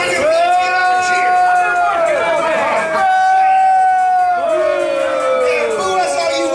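A wrestling crowd boos in a hall, a loud, sustained chorus of drawn-out jeering voices that swells, drops briefly, then rises again.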